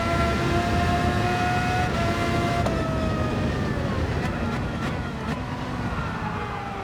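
Formula One car in Gran Turismo 7 held at full throttle in fifth gear, a steady high-revving engine whine with rising and falling pitch, loud and constant throughout, with a faint brief gear-shift flutter midway.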